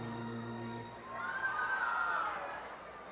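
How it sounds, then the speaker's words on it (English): Crowd at a minor-league baseball game, Reading Fightin Phils against Erie SeaWolves, swelling into a cheer and whoops in the middle before settling back, heard at a distance across the ballpark. "Strong crowd tonight."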